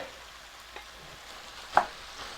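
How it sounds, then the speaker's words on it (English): Potatoes and meat being stirred in a frying pan, a faint soft sizzle under a few quiet scrapes, with one sharper utensil knock near the end. "Now, you put in the potatoes and the meat. Gonna mix that around a lot."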